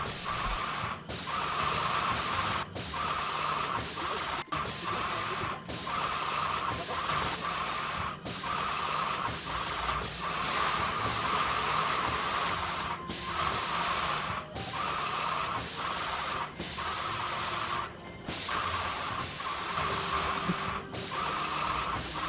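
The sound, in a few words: paint sprayer spraying white paint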